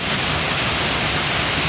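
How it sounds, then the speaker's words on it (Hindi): Water from a burst main valve at a 100 MGD pump house gushes through a window onto the motors, a dense, steady roaring rush with no break, loud and close. "ये खिड़की के ज़रिए मोटरों में पानी आ रहा है"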